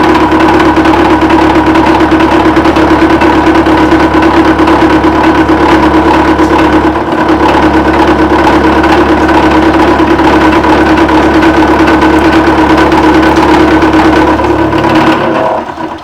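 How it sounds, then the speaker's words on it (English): A machine tool cutting a tough hydraulic bar, throwing blue chips, runs with a loud, steady mechanical drone and whine from start to finish, close up and unbroken. "if the editing software can take this machine noise out of the video"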